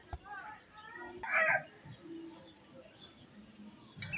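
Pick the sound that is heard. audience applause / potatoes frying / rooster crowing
rooster crowing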